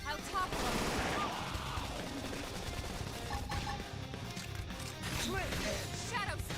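Gunfire and combat effects in the video game Xenoblade Chronicles X, a dense stretch of rapid shots and impacts layered with battle noise, loud and continuous, with voices calling out over it.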